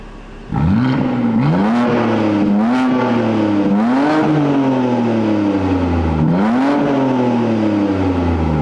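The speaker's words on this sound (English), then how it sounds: "That's the least pleasant tone I'm hearing inside of this exhaust setup" BMW G80 M3 with the S58 turbocharged inline-six, exhaust revving close and loud: a sudden start, then repeated rising blips and slow falling returns toward idle, four or five rev cycles with a raspy edge.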